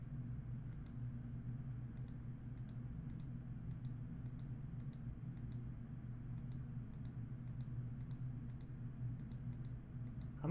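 Computer mouse clicks while stepping through a JSON Web Token exploitation exercise, crisp light clicks in irregular pairs and short runs over a low steady hum, close and faint, without speech.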